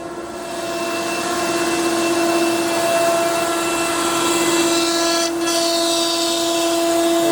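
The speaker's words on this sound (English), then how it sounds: "all 3 pumps, and the Brad Wilmot dust collection system over here is rocking out. So it's a noisy place right now" Three vacuum table pumps and a dust collection system running together in a workshop, a loud continuous drone with a steady hum that rises at the start and holds, no talk.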